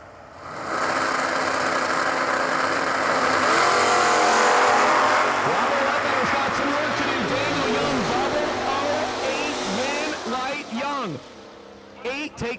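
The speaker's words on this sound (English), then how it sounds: "Daniel Young in the 96 Firebird dialed 632" A 1996 Pontiac Firebird at a drag strip idles and then launches, its engine roar swelling and sweeping through gear changes as it pulls away, while an announcer talks over it.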